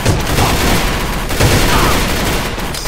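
Dense, continuous enemy gunfire in the online shooter Alliance of Valiant Arms, loud and sustained throughout, with a player's voice faintly mixed in.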